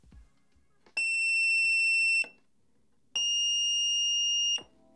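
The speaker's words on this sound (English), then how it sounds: "These two surface-mounted buzzers are magnetic, so we can see exactly how they sound." Two long, steady electronic tones from a magnetic surface-mounted buzzer, each about a second long, separated by a brief pause; piercing and constant in pitch.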